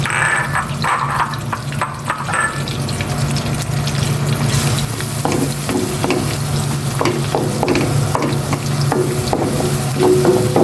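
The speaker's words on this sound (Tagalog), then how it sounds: "Gisa ko na itong bawang." Garlic sautéing in melted butter in a pan, a continuous bright sizzle with stirring scrapes and small pops throughout, steady and close.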